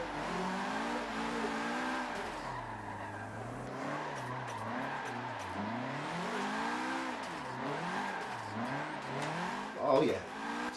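A low-horsepower Nissan S15 drift car in the video game Forza Motorsport 7, its engine rising and falling in pitch through revs while tires squeal in long skids, with someone talking over it throughout.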